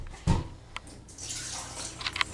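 Rice rinsing water poured out of a pot in a kitchen: a short splash, then a steady, fairly quiet pouring and trickling with a few drips toward the end, with no talking.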